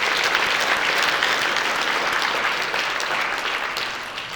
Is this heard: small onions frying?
no